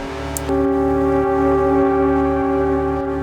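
A synth sent through a distortion pedal with heavy reverb gives a loud sustained tone with a buzzing, harmonic-rich drone and a faint regular low pulse, heard alone.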